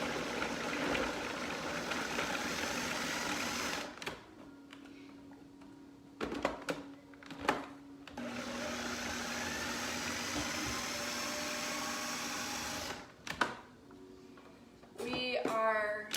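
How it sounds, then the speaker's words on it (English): A food processor whirs loudly as it chops a quarter onion and three celery hearts, running in steady pulses of several seconds separated by short pauses and clatter, with a voice speaking in between. "I'm just going to chop that up in my food processor"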